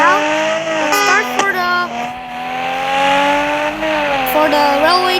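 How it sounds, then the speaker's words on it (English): A sports car in a video game starts up and revs, its engine pitch rising and falling in several sweeps with brief squealing edges, loud and close, while a person talks over it. "let's start the car."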